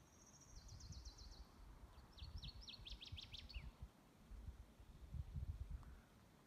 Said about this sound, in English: The forest right now is full of birds, mostly yellow-rumped warblers